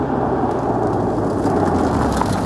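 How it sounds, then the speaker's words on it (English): Intake of a new Toyota MK5 Supra, heard as a dense, loud, continuous rumbling drone with no pauses and no talking over it. "The intake is so loud."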